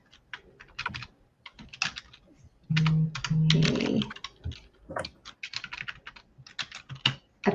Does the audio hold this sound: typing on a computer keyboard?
yes